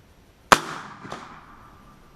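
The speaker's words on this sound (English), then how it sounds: "we'll do our last shot, and we'll expect it to hit low." A single sharp, loud crack from an AF Texan 457 big-bore air rifle is followed by a decaying ring and a fainter distant impact report about half a second later, with no talking.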